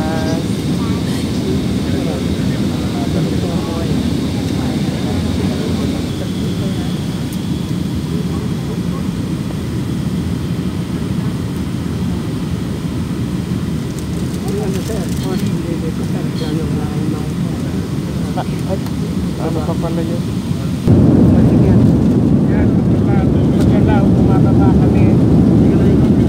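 Steady broadband roar of an airplane cabin in flight, a constant engine and airflow drone that grows louder and fuller near the end, with faint murmurs of passengers talking underneath.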